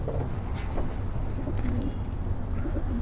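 Racing pigeons cooing nearby, soft repeated low coos over a steady murmur of birds in a loft.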